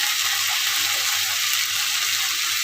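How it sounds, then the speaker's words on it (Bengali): Meat masala and chicken curry masala fry in hot oil while cooking freshly picked wild mushrooms, giving a continuous, close, even sizzle with no voices over it. "সামান্য দিয়ে দিচ্ছি না, একটু ভেজে দেবো"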